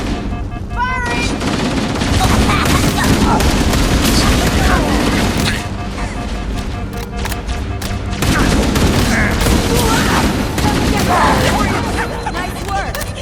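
Sustained gunfire and explosive booms from the Halo video game, dense bursts of shots throughout with voices calling out over the action.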